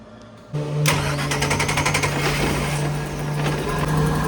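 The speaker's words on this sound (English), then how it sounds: "let's turn the key and see if the pump pressurizes" A Mercruiser boat engine with a Cool Fuel module, freshly fitted with a new top cap and regulator, cranks and catches at once, then settles into a loud, steady idle drone.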